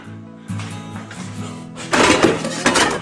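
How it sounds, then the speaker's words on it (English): Dishes and cutlery clink and clatter close by at a campsite at Lake Eaton in the Adirondacks, with running water rushing in during the second half, louder bursts near the end. "And that is doing the dishes."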